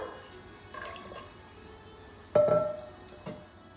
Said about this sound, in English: I'm going to add the soaked black turtle beans with that water